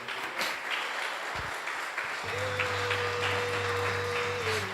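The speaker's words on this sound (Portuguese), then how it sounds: "Dê uma linda salva de palmas para Ele" A church congregation applauds during a worship service, sustained clapping that fills the room at moderate volume, with a steady sustained tone, likely a keyboard, entering partway through underneath.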